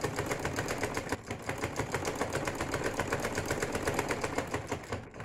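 A sewing machine stitches lace onto a baby frock, running in a steady, fast mechanical chatter that stays close and fairly loud for the whole stretch, with one brief dip partway through.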